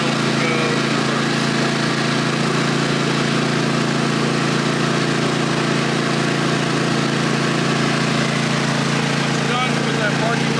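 A Cub Cadet Enduro Series lawn tractor engine runs loud and steady while the tractor is driven forward and in reverse, a constant close drone with no breaks, and a voice talks over it.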